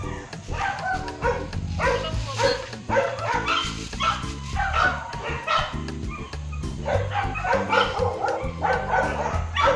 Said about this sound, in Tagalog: Parang siga yung aso niyo, Jok.